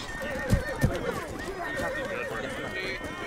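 Horse whinnies and galloping hooves in a multiplayer war video game, with a couple of sharp hoof-like thumps early on, heard under steady team voice chat and game noise.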